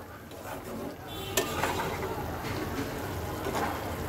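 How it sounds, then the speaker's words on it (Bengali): Kachki fish chorchori is stirred lightly in a pan, a steady soft sizzle with scraping and a sharp utensil clack partway through, close and continuous. "তো আমি একটু হালকা নেড়ে দেব"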